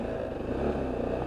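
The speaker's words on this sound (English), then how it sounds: "And just listening to that engine" A Lexmoto LXS Euro 5 motorcycle engine with a rear exhaust runs at a steady, even drone, heard up close and continuous throughout with no talk over it.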